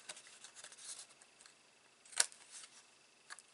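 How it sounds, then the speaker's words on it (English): Scissors make a single sharp snip through cardstock while trimming a stamped glass-effect greeting card, a crisp close cut standing alone against quiet room tone. "I can snip that little bit off so it's level with my card."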